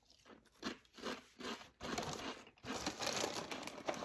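Peanut Butter Chex cereal pieces being bitten and chewed up close, a series of sharp, dry crunches in an irregular rhythm, quiet and alone with no talking.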